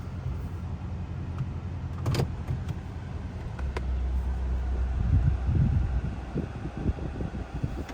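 A 2024 Toyota Tacoma TRD Sport fourth-generation pickup pulls off, heard from inside as a low engine hum and cabin rumble that swells slightly midway, with a couple of faint clicks and no voices.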